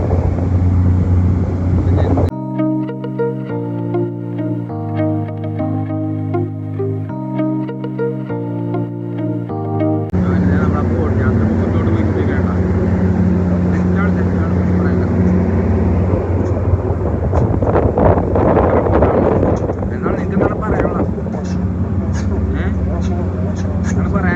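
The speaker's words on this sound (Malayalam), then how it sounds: "ബോട്ട് എടുത്തിട്ടങ്ങനെ" A motorboat carries passengers out toward Gozo island, its engine droning low and steady under loud wind buffeting the microphone, with a short burst of music early on and voices talking over the ride.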